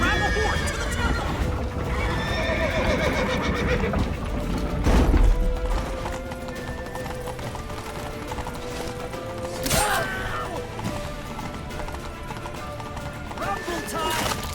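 Horse neighing and galloping hooves in The Witcher 3 video game, with loud whinnies and rapid clip-clop over tense action music, while shouting voices break in at times.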